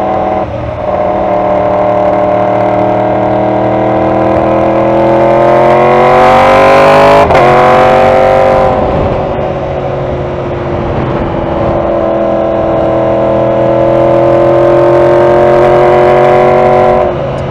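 A Shadow motorcycle rides along a road in Tampa, its engine a loud, steady drone heard up close that swells and rises in pitch midway before settling back to an even cruise.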